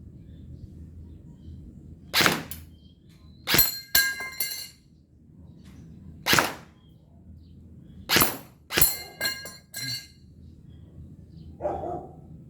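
Several sharp, sudden cracks from an E&C 603 airsoft rifle come one after another at uneven intervals, each a brief snapping shot with a slight impact ring on targets, alone against a low background hum.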